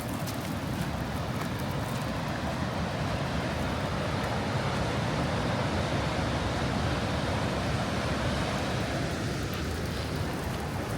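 Ocean surf on a rainy Olympic National Park coastline roars steadily and loudly with no breaks, a dense wash of breaking waves blended with wind and rain.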